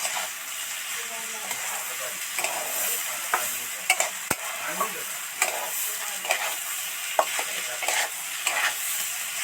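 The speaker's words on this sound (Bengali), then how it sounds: "নেড়ে চেড়ে পাঁচ মিনিটের মতো ভাজতে থাকবো" Vegetables stir-fried in a pan for vegetarian khichuri with potatoes, a steady close sizzle under repeated scraping and clacking strokes of a spatula, with no talk.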